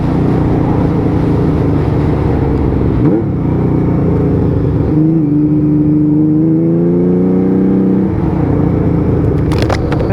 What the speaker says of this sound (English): You might get a bit of wind noise here, but earful of exhaust tone.